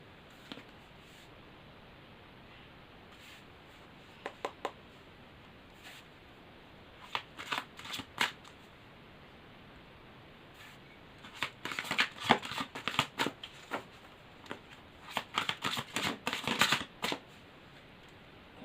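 Tarot cards are shuffled for a love reading, giving bursts of quick riffling and flicking that start sparse and grow into dense, rapid runs, close and clear in a quiet room.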